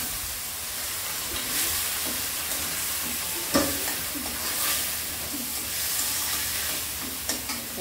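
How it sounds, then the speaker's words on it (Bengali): Frozen tomatoes added to a hot pan with cooked fish, a close steady sizzle and hiss with stirring scrapes and a few sharp clatters. "ফ্রোজেন করা টমেটো দিয়ে দেবো এখন"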